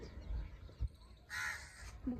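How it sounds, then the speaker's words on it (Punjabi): Several crows caw from a house rooftop in a burst of calls mid-clip, fairly near, with a couple of brief thumps and light household background noise around them. "ਰੋਜ਼ ਕਾਂ ਕਬੂਤਰ ਸਾਰੇ ਆਉਂਦੇ ਉਹ ਲੱਗੇ ਕਾਂ ਬੋਲਣ ਆਹ ਦੇਖੋ ਉੱਪਰ ਕਿੰਨੇ ਬੈਠੇ ਛੱਤ ਤੇ"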